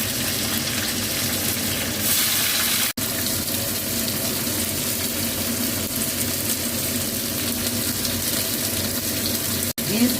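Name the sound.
green beans frying in tempered oil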